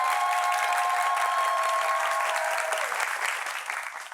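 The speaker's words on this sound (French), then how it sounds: "Applaudissements pour vous-même" A studio audience of institute students breaks into loud, sustained clapping that holds steady and then thins out toward the end, with no speech over it.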